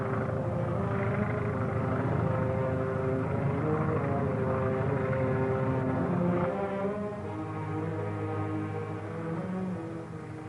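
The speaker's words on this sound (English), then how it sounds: "Hear that plane?" Propeller airplane droning overhead in Alaska, a steady, fairly loud engine hum with layered harmonic tones that shifts in pitch partway through as it passes, with no voices.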